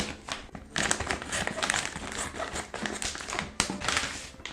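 Plastic packaging of No Brand jjajang noodles being torn open and handled, a continuous close, loud crinkling and rustling with a sharper crackle near the end.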